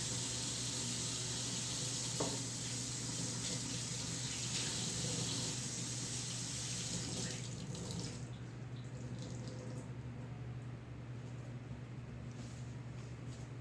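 A tap runs steadily into a sink while a reborn baby doll is washed at bath time, a constant close rush of water that thins slightly partway through, with no talking.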